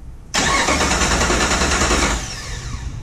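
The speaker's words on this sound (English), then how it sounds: "when we push this button, it should turn the engine over" A Jeep TJ engine, pulled from a salvage rebuild, cranks briefly then fires and catches, running loud and steady before easing down toward an idle, heard close with no talking.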